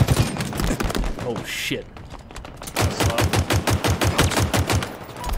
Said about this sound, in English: Here's the new battle rifle, which is strange.